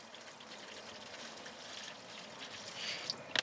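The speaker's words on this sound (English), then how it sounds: "banana water, so I'll put in some of that in." Banana water poured from a container in a garden polytunnel, a soft steady trickle and splash running throughout, faint and close, with a few brighter drips near the end.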